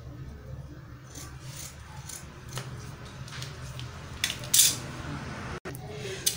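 Scissors snip through paper letters for a handmade bridal hand fan, a series of soft close crisp cuts and rustles building to a couple of louder snips near the end, with no talking.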